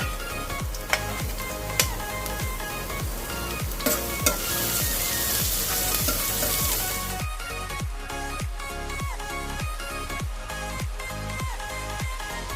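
Chopped garlic sizzles in hot oil with frying spices and asafoetida for a spicy corn-paneer curry, giving a steady close crackle. A spoon knocks against the pan in a regular rhythm over soft background music, with no talking.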